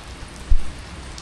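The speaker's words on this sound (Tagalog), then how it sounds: "it's currently raining" Steady rain falling outside a hotel in Paris, a continuous close hiss of drops on surfaces with one brief soft thump partway through and no voices.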